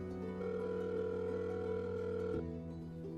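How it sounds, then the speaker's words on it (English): A telephone dial tone hums steadily and alone. A quick click partway through shifts it to a slightly different, quieter steady tone, as if the number is being dialed. "I pick up the phone and dial the number."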